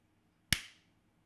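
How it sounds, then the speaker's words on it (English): One sharp hand clap used to sync audio while recording a podcast, a single close, crisp transient with a short decay in an otherwise quiet room. "let me just clap for syncing up audio"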